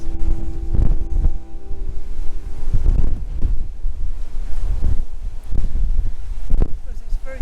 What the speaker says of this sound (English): Because it's very windy.